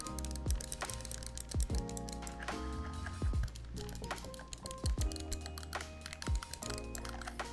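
An ASUS TUF M3 Gen 2 gaming mouse gives sharp, repeated button clicks at an uneven pace, set against quiet background music with deep swooping tones, close and fairly faint, no voices.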